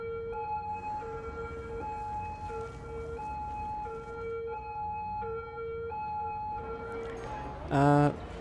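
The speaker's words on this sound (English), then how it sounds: "If there were less sirens, it would be easier for my ears." Emergency vehicle sirens in the city-building game Cities: Skylines play a repeating high two-tone pattern under a busy city hum, with faint talk, ending in a short loud burst.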